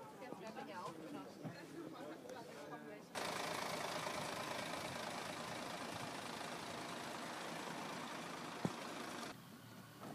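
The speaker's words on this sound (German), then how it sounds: "Die andere Buslinie wurde von einem alten Postbus gefahren." An old post bus engine idling at a transport history day, a steady loud diesel rumble and clatter that cuts in suddenly after some background noise and holds before dropping away near the end.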